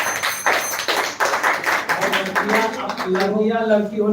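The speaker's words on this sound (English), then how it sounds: "What a marvelous speech by Mr. Ashif. Once again, clap for him." An audience at a school speech competition claps after a speech, a burst of sharp hand claps in the first half that fades as a voice takes over.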